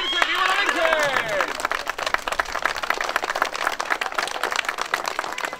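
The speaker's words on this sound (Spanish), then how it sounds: "¡Aplausos grandes para la Virgen!" A crowd claps for the Virgin during an outdoor religious procession at a ranch cavalcade, opening with a loud voice over the crowd before brisk, uneven applause takes over and continues to the end.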